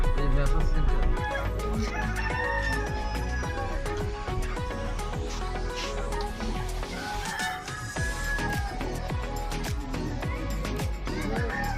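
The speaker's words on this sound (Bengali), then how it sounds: "এখানে মোরগ পাওয়া যায়, ওনারাই রান্না করে দেন।" Roosters crow and chickens cluck near Tajpur sea beach, mixed with voices and other clutter throughout.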